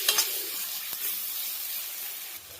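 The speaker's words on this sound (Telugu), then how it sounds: "అవి ఫ్రై అవుతున్నాయి కదండి, ఈలోపు కొంచెం అల్లం పేస్ట్ పచ్చి వాసన పోయే వరకు ఫ్రై చేసుకున్నాం." Onions and ginger paste fry in a pan with a close, steady hiss. A couple of sharp crackles come at the start and a soft stir follows midway.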